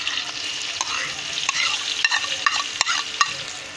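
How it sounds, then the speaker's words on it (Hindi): A spoon stirs chopped onion and tomato frying in a pan for baingan bharta, giving repeated scraping clicks over a steady, close sizzle with no talking. "इसको चम्मच हिलाएंगे और साथ साथ हम इसमें चॉप किया हुआ प्याज और टमाटर"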